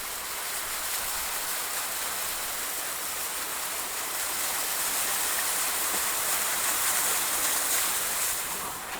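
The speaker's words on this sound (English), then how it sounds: "there's water running down the road from there" Water runs down a road, producing a steady, close broadband rushing hiss that continues without a break.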